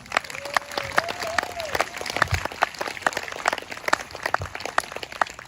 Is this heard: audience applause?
yes